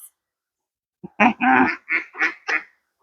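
A female mallard duck quacks five times in a quick descending series, loud and close, after a short pause of quiet.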